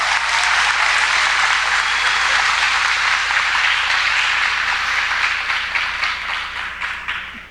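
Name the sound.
audience applauding graduating class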